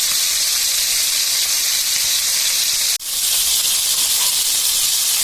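Chicken pieces frying in oil in a pan, a loud, steady hiss and sizzle throughout, briefly cut off by a sharp break near the middle before resuming.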